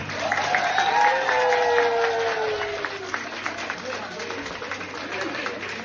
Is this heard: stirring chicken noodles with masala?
no